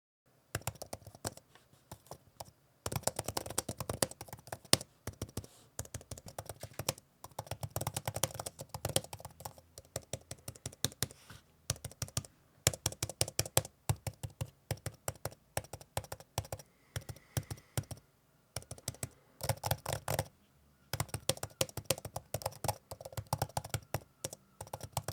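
Typing on an ESR iPad keyboard case: quick, light clicking keystrokes in bursts with short pauses, close and fairly quiet, no voices.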